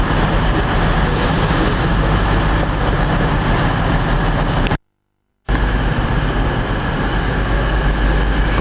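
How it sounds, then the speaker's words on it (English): East Midlands passenger train unit approaching a station platform on the Nottingham–Derby line, a loud, steady rumble of wheels and engine that fills the clip, broken by one brief gap of silence. "Got an East Midlands train unit coming in."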